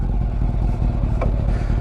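A Honda CB400 Super Four motorcycle engine idles on choke while warming up, a loud, close, steady low rumble with rapid regular firing pulses and a light mechanical clatter, no talking.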